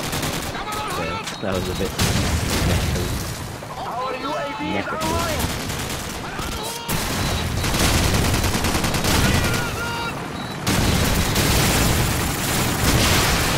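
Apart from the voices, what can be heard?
MP44 rifle gunfire in Call of Duty 4 video game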